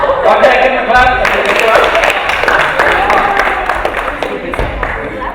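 A small group applauds an improv performer, with brisk, uneven hand claps close by lasting several seconds and a few individual claps audible near the end.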